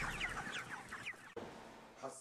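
Chickens clucking in a series of quick, close, fairly faint calls, with a short gap partway through before the clucking resumes.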